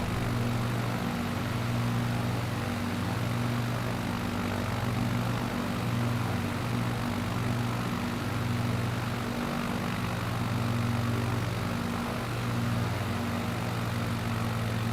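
Propeller airplane engine in Flight Simulator, a steady droning hum with a low throbbing pulse that eases slightly as the throttle is backed off, continuous and alone without talk.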